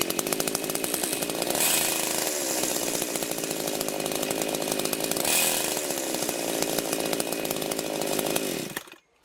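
A chainsaw engine mounted on a bicycle runs steadily and loud up close, a buzzing two-stroke drone that briefly revs higher before cutting off at the end.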